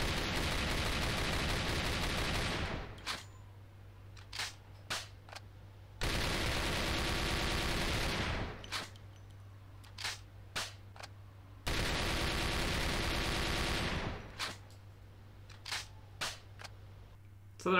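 Three long bursts of automatic fire from the para submachine gun in the shooter A.V.A, each followed by a few sharp single clicks and pops. The gunfire sounds close and loud, with no talking.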